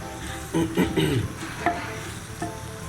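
Beef keema with drumstick (sohanjna) pieces being stirred and fried in a pan, giving a soft sizzle with a few scraping stirs close by near the start, then quieter frying.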